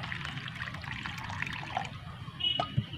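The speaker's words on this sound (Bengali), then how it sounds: "এবার জল দিয়ে ময়দাকে মাখিয়ে নেব। যা জল দিয়ে আমি একসঙ্গেই দিয়ে দিচ্ছি।" Water poured onto flour for singara dough, a brief soft trickle and splash close by over low background rumble.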